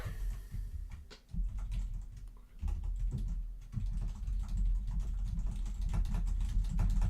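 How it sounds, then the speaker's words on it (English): Computer keyboard typing in quick, uneven bursts of clicks, fairly close, over a low steady background hum with no voices. "You guys just want the sound of a keyboard?"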